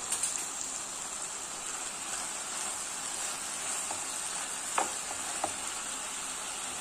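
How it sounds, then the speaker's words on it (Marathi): Onion and tomato fry and are stirred in a pan while okra cooks nearby, giving a steady soft sizzle with a few faint spoon scrapes and clinks, no voices. "ह्यामध्ये आपण हे कांदा घालून घेऊया आणि हा टोमॅटो आणि परतून घेऊया"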